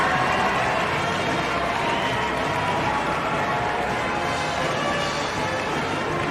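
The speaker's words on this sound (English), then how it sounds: "listen to the crowd" A gym crowd roars after the Westview girls' basketball upset over rival Fairfield, a loud, sustained wash of cheering and noise.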